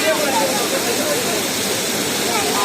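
Water gushes from the trunk of an elephant statue at Kallathigiri, a broad, continuous rushing splash that stays close and loud without a break.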